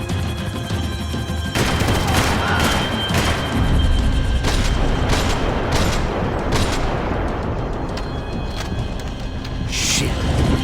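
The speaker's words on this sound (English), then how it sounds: "Max, shoot that bastard!" Gunfire in the Max Payne 3 video game: rapid bursts of shots and booming impacts crack out repeatedly over about ten seconds, loud and close, with brief shouted voices mixed in.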